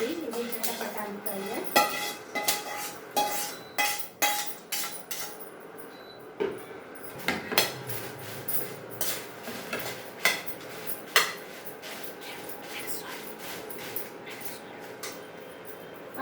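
Metal kitchen utensils handle peppers, including Guntur chillies, in a home kitchen, producing repeated clinks, taps and scrapes against a pan at an irregular rhythm. The sounds are close and come under someone talking.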